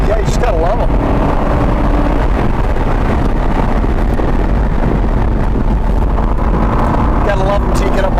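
Aston Martin Vantage Roadster V12 from 2007 driving on the road, a steady loud engine drone mixed with heavy wind rush, with voices talking over it throughout.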